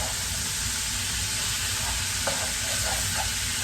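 Seasoned beef browns in a pan for an empanada filling, giving a loud, constant hiss and sizzle with a few light stirring scrapes partway through.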